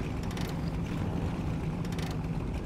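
A damaged truck engine with its engine on fire runs steadily in the SnowRunner game, a low continuous rumble with faint rattles and no voices.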